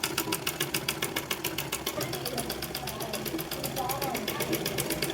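A sewing machine stitches along the edge of a pillow cover, its rapid, even needle rhythm pulsing steadily throughout at close range, with a voice faintly audible underneath.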